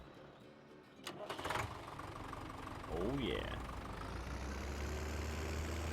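A small tractor engine in a farming video game cranks over and catches, then settles into a steady low idle rumble, with someone speaking briefly over it.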